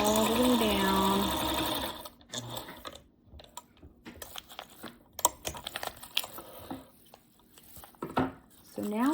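Sewing machine stitching a quilt seam on star-pattern sheets, running in loud continuous bursts for the first two seconds, then fainter intermittent stitching and handling clatter with pauses.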